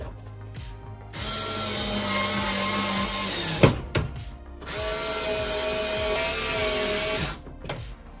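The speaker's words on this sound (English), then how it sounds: "To be able to put in the drywall anchors, I'm just gonna put them in just like that." Power drill whirring in two long sustained bursts, driving drywall anchors into a wall for mounting an infrared wall heater, close and loud, with a sharp knock between runs.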